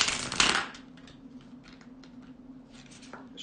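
Tarot cards being shuffled, a short loud riffling burst up close followed by faint soft card taps and rustles.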